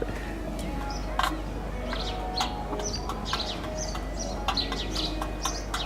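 Hens cluck and chirp in short, scattered bursts over a steady low hum, with several birds calling near and far.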